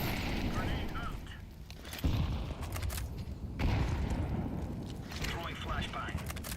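Gunfire and a grenade blast in a video game: dense rattling shots with two sharp booming bursts cutting through, continuous combat noise at moderate level.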